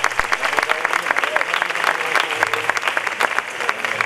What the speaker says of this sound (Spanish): Un aplauso para ellos dos.